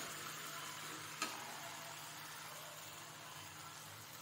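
Potatoes and okra fry in masala with a quiet, steady sizzle, interrupted once by a single clink of a stirring spoon.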